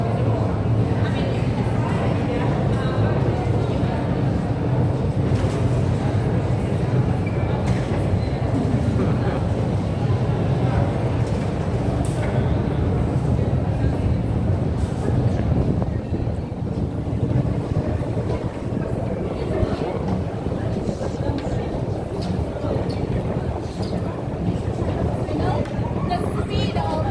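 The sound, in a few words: Moscow Metro subway train running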